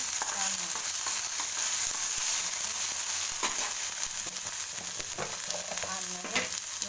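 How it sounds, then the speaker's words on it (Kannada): Potato, curry leaves and tomato frying together in a pan for aloo methi fried rice, a loud continuous sizzle with occasional spatula scrapes and stirring clatter; no one speaks. "ಟೊಮೊಟೊ ಹಾಕ್ಕೊಂಡು ಮತ್ತೆ ಚೆನ್ನಾಗಿ ಒಂದ್ಸಲ ಫ್ರೈ ಮಾಡಿ"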